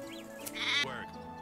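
A sheep in the video game Medieval Dynasty lets out a single wavering bleat, clear and fairly close over a low ambient game background.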